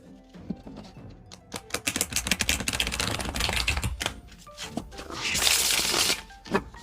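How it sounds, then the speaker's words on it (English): A Spooky Tarot deck is shuffled by hand, making a close, rapid run of papery flicks and taps that builds into a dense riffle burst near the end. "We're gonna give them a nice little shuffle, see how they shuffle"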